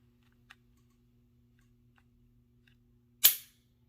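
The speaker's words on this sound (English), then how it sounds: "I'll go ahead and show you the trigger press." A Glock G43X MOS pistol's trigger is pressed once, giving a single sharp, loud click near the mic against a quiet background, preceded by a faint small tick.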